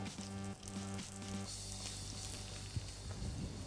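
A mackerel fillet sizzles steadily on a rosemary branch in a pan beside caramelizing endive, a gentle continuous frying hiss with a faint tonal hum underneath, no voices.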